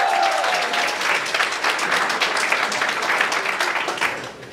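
Sustained audience clapping fills a community culture centre jam session, greeting an electric guitarist with a steady, dense wash of applause from start to finish.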